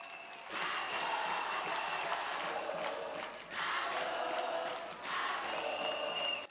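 An audience at a speech for International Women's Day breaks into applause, a dense sustained clapping that swells, dips around the middle and surges again, filling the room with a steady broadband wash.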